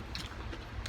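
Close, quiet crunching and mashing of boiled peanuts being chewed, a short burst of bites with soft wet squishes and no talking.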